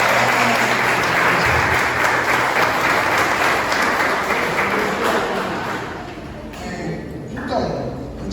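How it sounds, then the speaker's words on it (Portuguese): A church congregation applauds for their pastor's birthday with loud, dense clapping that fills the room, then fades near the end as voices and a few scattered claps remain. "uma salva de palmas para ela"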